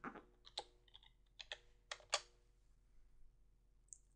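Quiet typing on a computer keyboard, a short run of several separate key clicks in small clusters over the first two seconds, then near silence with one faint click at the end.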